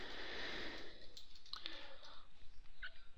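Computer keyboard keys, likely arrow keys and letter keys, are pressed while setting up tags in the InduSoft Web Studio SCADA software. Scattered light clicks sound faintly over a soft background hiss.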